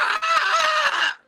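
Voice mimicking a reanimated bird letting out a guttural scream: one loud, harsh, strained shriek lasting just over a second that breaks off abruptly.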